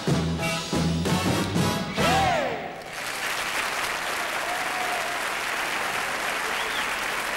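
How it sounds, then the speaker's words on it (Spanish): Audience applause at the 1977 Eurovision Song Contest in London, starting under a singer's final sung notes and then continuing as steady, dense clapping from a large crowd for several seconds. "Pensamos, señores, que la ovación es más elocuente que nuestras palabras."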